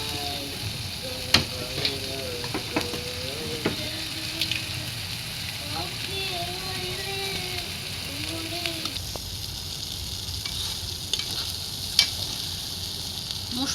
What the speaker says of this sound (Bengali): মাংসগুলো ধুয়ে পরিষ্কার করে নিয়েছি, এখন দিয়ে দিব হাঁড়িতে।